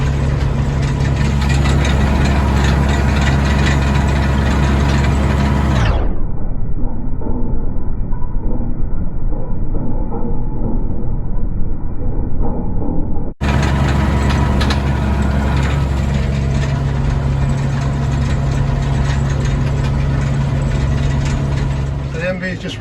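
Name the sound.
tractor engine running with round baler attached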